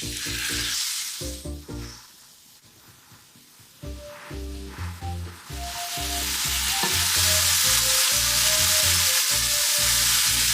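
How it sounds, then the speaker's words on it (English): Pork stir-frying in sesame oil in a frying pan. A loud, steady sizzle starts about halfway through and keeps going under light background music, which plays alone at first. "First, I'll start by stir-frying the pork."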